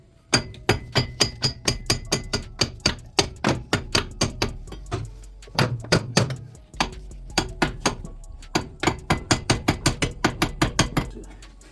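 Repeated metallic hammer blows tapping at a part on a Simca project car with a flathead V8, close and sharp, coming in quick runs with a few short pauses and a lone dull knock partway through.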